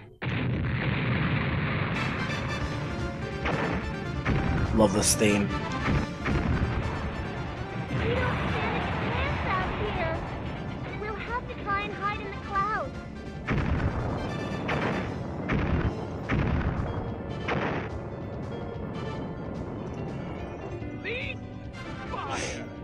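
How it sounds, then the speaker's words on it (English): Ship cannons firing and blasts exploding in the Megaman Legends video game, a rapid run of loud booming bursts over steady game music, with someone talking throughout. "Time to blow him and that ship of his to Kingdom Come! All port cannons, prepare to fire!"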